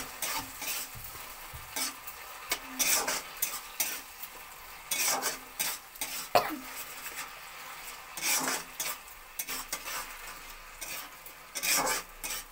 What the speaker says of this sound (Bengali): চিনিটা দিয়ে আবার নাড়াচাড়া করে নিতে হবে।